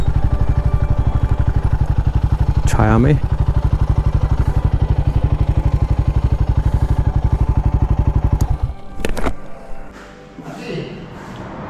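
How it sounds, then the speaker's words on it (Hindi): A motorcycle engine runs with a steady, close, throbbing idle on a desert road trip between Jaisalmer and Jodhpur, then cuts off as the bike is parked, leaving a quieter background. People talk over it. "यहाँ कर देते हैं बाइक को पार्क"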